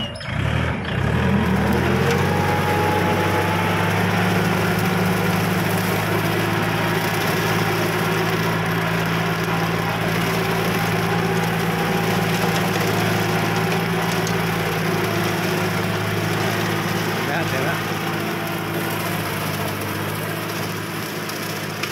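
A 2011 Kubota L3608 tractor fitted with a front dozer blade and mower runs at a steady, loud, close idle, with a continuous droning hum and no voices.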